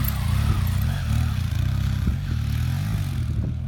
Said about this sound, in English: Can you hear the throttle is pretty steady, but you hear the engine revs changing?